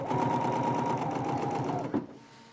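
A BERNINA sewing machine fitted with a number 71 flat felled foot stitches in a fast, even mechanical patter close by, then stops abruptly near the end with a small clunk.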